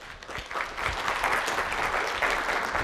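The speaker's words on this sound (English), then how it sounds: "give him some applause" A crowd applauds at a 2013 boat building school gathering, with a steady, even patter of many hands clapping that builds slightly after the first half second and keeps going without voices.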